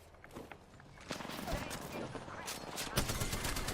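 Rapid gunfire rattles in Apex Legends, one burst after another at moderate loudness, with other battle noise underneath.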